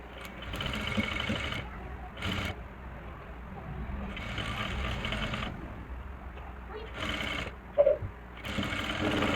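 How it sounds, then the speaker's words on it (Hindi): A sewing machine stitches the edge of a salwar in several bursts of rapid mechanical whirring, stopping and starting between runs, close and steady, with a brief clunk between stitching passes. "ऐसे रखने के बाद इसके बिल्कुल ही किनारी पे सिलाई लगाएंगे जैसे हम टॉप सिलाई लगाते हैं"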